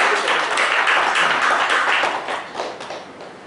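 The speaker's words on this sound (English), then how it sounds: "Please thank Rafeq sir with a round of applause" A dense wash of audience applause at a chartered accountants' panel event, steady and full at first before easing off slightly toward the end.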